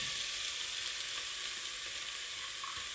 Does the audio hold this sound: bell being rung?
no